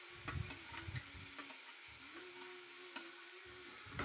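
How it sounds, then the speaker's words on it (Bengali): Fried vegetables are stirred in a pan for chow mein, with faint scraping and tapping over a quiet sizzle and a low background hum. "একটু নাড়িয়ে চাড়িয়ে নিয়ে"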